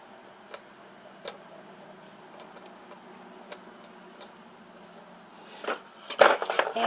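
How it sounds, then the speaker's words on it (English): Small plastic Barbie toy apples and pears set into a toy fruit bowl for a dining room display, a few sparse light ticks and clicks, then a quick cluster of louder rattling clatters near the end. "I have some apples, some pears that I'm going to place in the bowl here"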